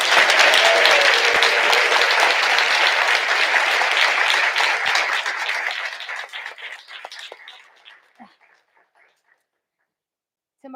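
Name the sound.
audience applause for honorees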